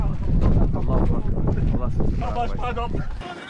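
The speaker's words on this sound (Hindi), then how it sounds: "बहुत तेज़ हवाएं चल रही हैं जी" Loud gusting wind rumbles and buffets the microphone at height on the climb to the Cave of Hira while someone speaks over it, the roar steady and close throughout.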